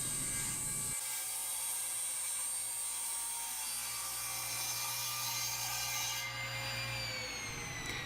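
A table saw rips a thick board of wood lengthwise, holding one long steady grinding cut with a bright spinning-blade whine that tapers off near the end, loud and close with no talking.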